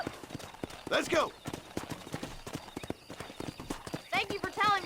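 A horse gallops in the Red Dead Redemption video game on PS4, its rapid rhythmic clip-clop hoofbeats steady and close throughout, with a couple of brief neighs or snorts and a voice urging it on.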